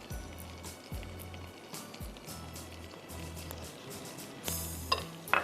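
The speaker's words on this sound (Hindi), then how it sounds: "हल्का सा गार्लिक फ्राई हो जाएगा" Crushed garlic sizzles in a pan, a soft, steady fry with occasional scrapes and clinks of a utensil, faint and close, louder toward the end.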